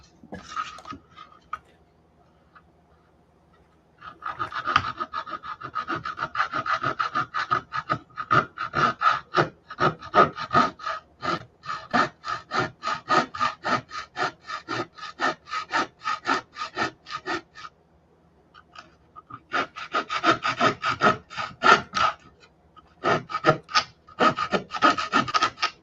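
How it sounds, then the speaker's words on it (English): Wood being sawn by hand in a rapid back-and-forth rhythm, close and loud, with short pauses between bursts of strokes and no talking. "Every time I hear something like that, somebody sawing"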